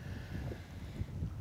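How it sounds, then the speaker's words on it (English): Wind gusts across a lake during smallmouth and largemouth bass fishing from a boat, a faint, steady low rumble on the microphone with no speech. "It's a little windy."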